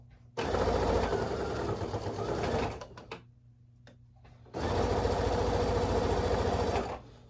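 A sewing machine stitches quilt binding a quarter inch from the edge, running loud and steady for about two seconds, pausing briefly, then running again in a second long burst.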